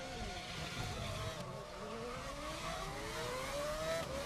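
A race car in GRID Legends spins out with a close engine roar and rising, wavering tire squeals that sweep upward as the car slides and rotates.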